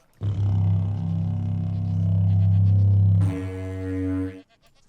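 The "Feel" goat horn from Minecraft sounds as one long, loud, brassy blast that holds steady, then jumps to a brighter, higher tone before cutting off, with nothing else heard.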